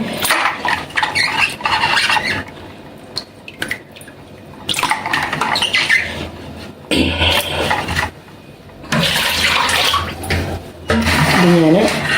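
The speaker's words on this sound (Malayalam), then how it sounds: "ഐസ് വെള്ളത്തിലേക്ക് നല്ല തന്നെ കഴുകിയെടുക്കുക" Water sloshing and splashing in a basin of ice water as aloe vera is washed by hand, in bursts of rinsing with brief pauses between.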